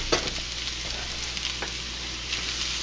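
Roast beef hash frying in bacon fat in a hot pan, a steady close sizzle with a few scraping stirs of a utensil near the start and midway.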